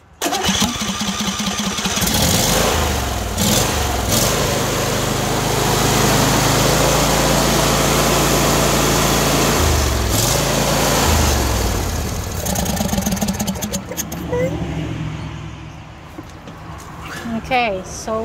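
John Deere D130 lawn tractor engine running steadily on both cylinders, a loud close rumbling idle that continues for most of the stretch with brief dips, with people talking over it.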